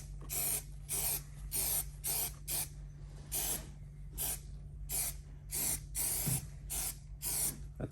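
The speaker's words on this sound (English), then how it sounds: "You could spray some test right on the cardboard there." Spray adhesive misting onto cardboard during a BMW E30 sedan headliner installation, about a dozen short hissing bursts in an irregular rhythm, close and crisp over a low background hum, with no talking.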